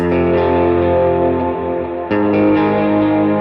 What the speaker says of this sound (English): what they're doing there is they're using like a standard power chord